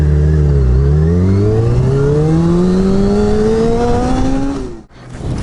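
Motorcycle riding along with its engine note rising steadily as it accelerates, loud and close, then cutting off sharply near the end, with a worn sprocket and chain on the left side.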